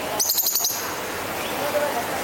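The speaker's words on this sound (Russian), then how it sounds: "И вот такие попугайчики," Parakeets at an Israeli park give a quick burst of about six sharp, high chirps near the start, then quieter bird sounds and faint background noise.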